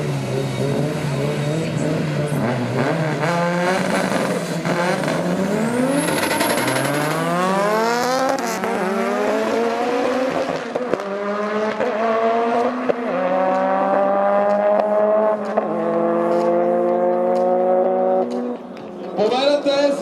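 Drag racing cars at Sliven in the Pro B class roar as they launch and accelerate down the strip. Engine pitch climbs steadily through the gears and sustains loudly, while a commentator talks over it.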